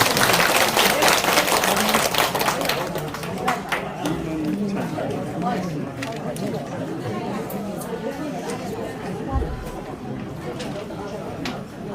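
An audience at a senior university gathering breaks into loud applause to welcome a speaker. The clapping is dense at first, then thins into scattered claps and crowd murmur as people keep talking.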